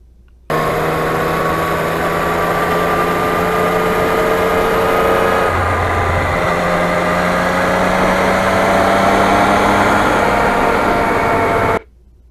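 A 2020 Yamaha MT-09 motorcycle cruises at light throttle on a break-in ride, its engine and muffler giving a steady hum mixed with wind noise. The pitch shifts once partway through, with no voices.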